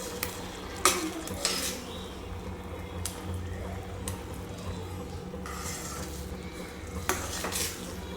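A spoon stirs and scrapes through chow chow bath mixed with ghee and saffron in a metal pan, with repeated clinks against the pan over a soft sizzle and low kitchen background.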